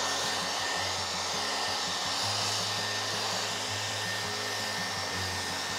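A hair dryer blows steadily and close, giving a constant whooshing hum with a slight shift in pitch partway through, used to dry a painted layer on a wooden monogram letter.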